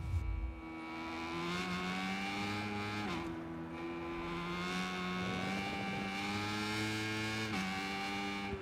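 Game motorcycle engine running steadily throughout, a loud sustained drone with shifting revs and brief dips around gear changes, up close and alone with no talk.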